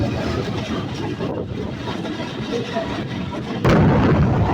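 Nakshikantha commuter train pulling out of Mawa rail station near a highway, a steady heavy rumble of wheels and engine close by that swells suddenly louder near the end.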